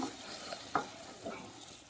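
A few soft scrapes and knocks of a spoon stirring payasam, a sweet milk pudding, in a pot, with a faint sizzle underneath, quiet and close.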